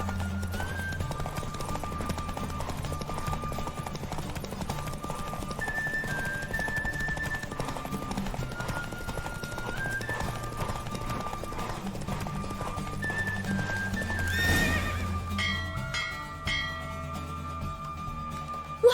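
A horse gallops in a steady clip-clop rhythm in The Witcher 3: Wild Hunt, beneath a musical game soundtrack, with a brief whoosh near the end.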